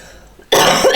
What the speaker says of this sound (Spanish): Ay, ¿y esa tos?